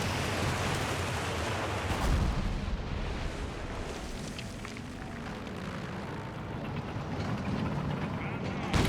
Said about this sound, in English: That vision allows some land mattress fire